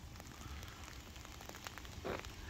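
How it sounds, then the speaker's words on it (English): Small ice pellets, like hail, fall steadily in the mountains of the Smokies near a covered bridge, making a continuous soft patter and crackle with scattered sharper ticks throughout. "It's kind of like hail."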